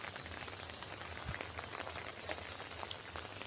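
Rain falls as a faint, steady patter on surfaces, soft and continuous with a few scattered louder drops and no voices.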